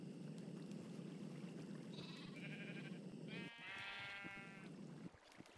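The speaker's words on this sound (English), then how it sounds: "So these sheep here, I dyed them brown" Sheep bleating in the Minecraft FTB Direwolf20 modpack, two or three nasal wavering bleats over a steady low hum of background noise.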